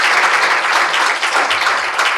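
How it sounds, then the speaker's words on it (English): Dense, steady applause fills the whole moment from an audience at the close of a conference panel session on culturally sensitive treatment recommendations, loud and continuous with no voices over it. "Let's give one last round of applause for all of us."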